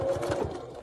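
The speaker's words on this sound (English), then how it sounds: "I am going to take the time now, and I'm going to top stitch" A sewing machine topstitches a fabric heart pouch with a long stitch length, a steady motor hum with a quick rhythmic pulse of needle strokes, close and alone for under a second.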